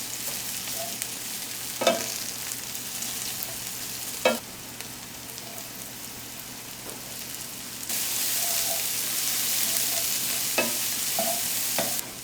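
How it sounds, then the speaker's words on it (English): Mushrooms, shallots and garlic sauté in a pan, a steady sizzle with occasional stirring scrapes and clinks; the frying grows louder and denser toward the end, with no speech. "When the mushrooms are browned, add in your shallots and garlic and saute for a few more minutes."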